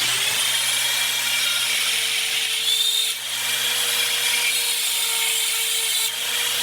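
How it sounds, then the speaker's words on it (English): A Neu Master 180-watt rotary tool drills a hole with a drill bit and no pilot hole, making a high, steady motor whine with a constant hum beneath and a grinding edge from the bit, close and continuous with slight dips. "Let's see if we could drill a hole in this."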